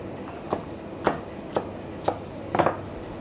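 A knife chops peppers steadily on a cutting board, about six sharp, evenly spaced cuts, close and clear.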